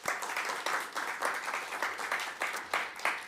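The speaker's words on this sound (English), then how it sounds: "please give them a big round of applause." Audience applause at a music mixing awards ceremony, a dense steady round of clapping from a crowd with rhythmic surges, fairly close and loud throughout.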